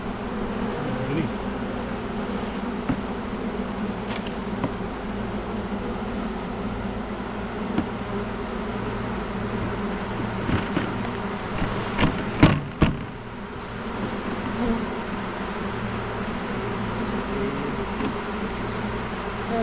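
A honeybee swarm buzzes steadily, bees fanning as they are gathered into a box on a farm, a dense continuous drone with occasional louder close passes and brief voices in the background.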